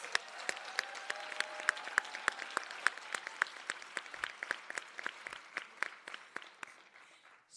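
At a nursing graduation ceremony, an audience claps in a sustained round, with crisp separate claps repeating steadily and sounding somewhat distant and soft as the applause gradually thins out.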